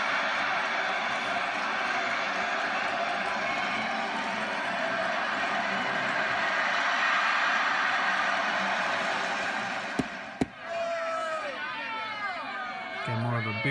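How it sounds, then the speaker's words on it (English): A medium-sized crowd cheering from a soundboard, a steady roar of voices and applause-like babble that holds for about ten seconds, then cuts out into a brief separate snippet. "This is a medium cheer."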